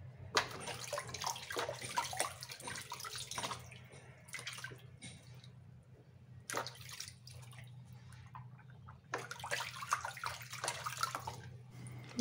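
Water drips and splashes in bursts while a pet rabbit is bathed, with quiet, close trickling and patters broken by short pauses and no speech.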